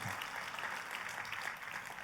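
Congregation applause during a church sermon, a brief steady wash of clapping under low room noise.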